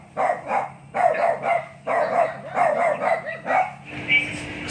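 A dog barks repeatedly in a steady rhythm, fairly close, with a low hum underneath and a faint whimper near the end.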